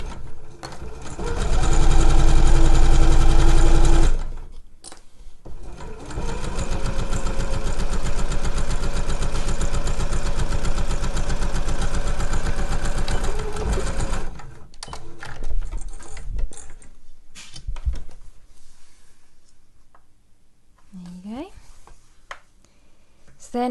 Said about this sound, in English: sew those together.